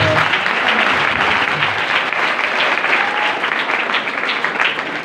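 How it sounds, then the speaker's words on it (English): Loud, sustained applause from a school audience after a class presentation, thick and steady clapping throughout with a faint tone at the very start. "clap everyone."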